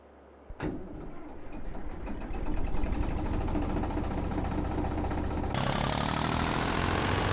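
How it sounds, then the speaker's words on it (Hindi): A tractor engine in Farming Simulator 22 starts up and settles into a steady, loud, rumbling idle with rhythmic knocking, growing fuller and louder after a few seconds. "इस वाले ट्रैक्टर की आवाज़ असली ट्रैक्टर वाली इसमें पूरी फीलिंग आ रही है"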